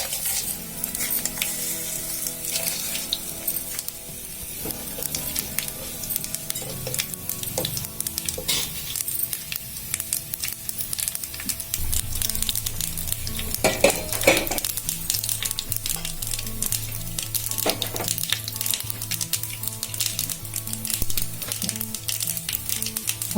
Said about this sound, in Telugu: పోపు గింజలు వేగాయండి